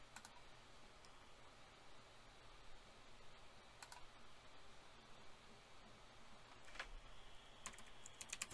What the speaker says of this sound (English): I connected Logitech K380 Bluetooth keyboard.